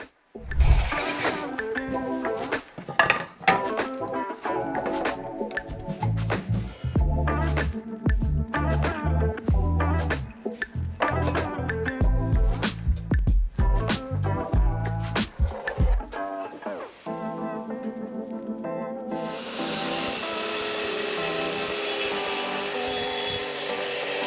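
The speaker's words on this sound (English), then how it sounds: "We start by cutting all the shelf boards to size, and for that we use the plunge saw." A plunge saw cuts wooden shelf boards to size: a loud, steady motor whine with grinding cutting noise through most of the stretch, then the blade spins down and stops, leaving a softer hiss.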